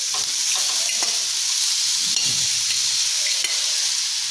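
Chicken is stirred into a vegetable doughnut mixture in a pan, giving a continuous hiss and sizzle with soft scraping and light taps of the spoon, close and even, no talking.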